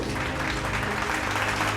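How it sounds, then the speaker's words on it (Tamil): A church congregation at a Sunday Tamil service breaks into brief, dense applause, a steady wash of many hands clapping together at moderate volume. "கைத்தட்டுங்க ஒரு அவருக்கு"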